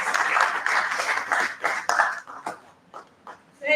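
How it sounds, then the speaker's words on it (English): Welcoming applause at an annual in-house research review and planning meeting: a roomful of clapping that starts dense and loud, then thins to scattered individual claps and fades out, with no talking. "Let's give her welcoming applause."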